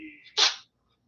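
A single sharp sneeze bursts out close and clear, coming right after a short vocal sound and then cutting off into silence.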